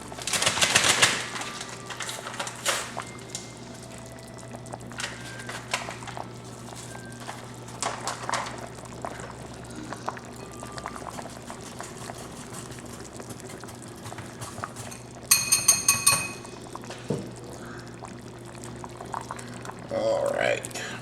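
Broth is ladled out of a pot of old-fashioned vegetable beef soup, with soft liquid splashes and pours and a few light clinks over a low steady hum.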